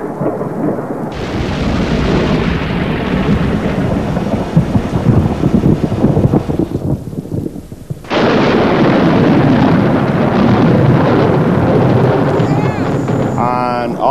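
Thunder from lightning during a storm, a heavy rumbling roar that stays loud and continuous, with a sharp fresh crack about midway that renews the rolling boom.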